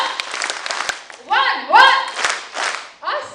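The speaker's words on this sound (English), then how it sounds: "Now count the number of times I say one and clap accordingly." An audience at an international coating and ink conference claps in short bursts between the spoken counts, with a voice calling out over them.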